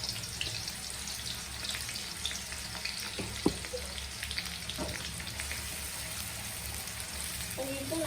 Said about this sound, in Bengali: এখন হচ্ছে আমি এখানে পেঁয়াজ কুচি দিয়ে দিচ্ছি, দিয়ে এটাকে আমি বেস্তা করে নেব।